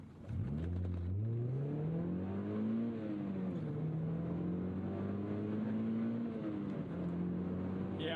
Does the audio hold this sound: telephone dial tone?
no